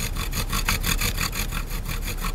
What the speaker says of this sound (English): cool the bead as it's being drilled